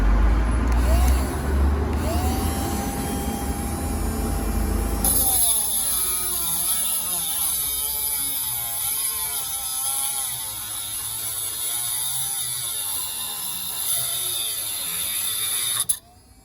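A small battery mini angle grinder bought from Temu cuts through a 5 mm screw, giving a loud high whine with rising and falling grinding tones as the disc bites the metal, close up and continuous.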